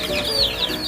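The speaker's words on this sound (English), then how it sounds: "We have gold and silver lace Wyandottes, buff Orpingtons, and silky bantams." Young chicks, including gold and silver lace Wyandottes, buff Orpingtons and silkie bantams, cheep in a brooder: rapid, high, close peeping calls overlapping in a steady chorus.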